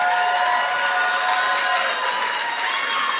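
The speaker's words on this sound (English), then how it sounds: "Thank you for that unsolicited applause." Live audience at a comedy podcast taping applauds and cheers in a dense, sustained wash of clapping and whoops, loud and close throughout with no pauses.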